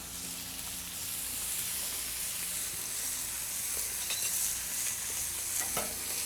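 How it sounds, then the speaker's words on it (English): Tomatoes and jalapeños sizzling in bacon fat on a griddle, a steady broad frying hiss with occasional crackles and pops, close and continuous with no talking. "They'll just cook in the bacon fat, which is really good."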